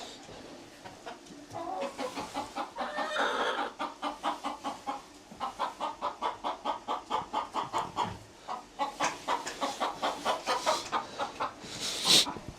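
Several hens cluck in steady, rapid bursts close by on a homestead in Croatia, with a sharp squawk near the end.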